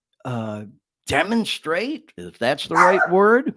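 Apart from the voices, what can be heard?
dog barking at someone outside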